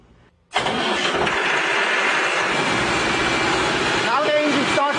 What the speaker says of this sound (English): Now the engine started.